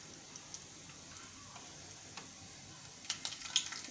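Whole cumin seeds sizzle in hot oil in a pan, a soft steady crackle with a few sharper pops building near the end; no talking.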